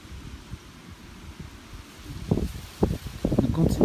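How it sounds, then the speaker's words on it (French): Wind picks up at an outdoor camp in Kyrgyzstan, a low gusty rumble buffeting the microphone that grows louder and choppier toward the end. "Le vent se lève, les nuages"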